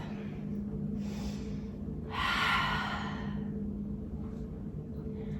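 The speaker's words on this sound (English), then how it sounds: "Take a breath. In through the nose and then exhale out through the mouth." Breathing during a yoga session: a soft inhale followed by a longer, louder exhale through the mouth, heard close against a steady low background hum.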